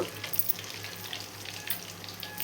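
Spices and curry leaves crackle and sizzle in homemade ghee, a steady, close, fairly quiet frying hiss with small popping bursts throughout.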